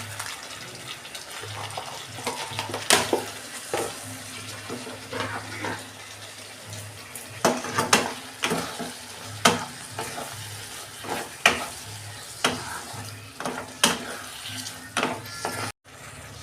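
A soybean curry is stirred as it fries in a pan, with a continuous sizzle broken by frequent scraping and clattering strokes of the spoon. The stirring is close and fairly loud, and no one speaks.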